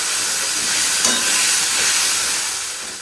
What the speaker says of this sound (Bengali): তারপরে দিয়ে দিলাম আলু, লম্বা লম্বা করে কেটে রেখেছি। সেই আলুগুলো আবার লাল লাল করে একটুখানি ভেজে নেব।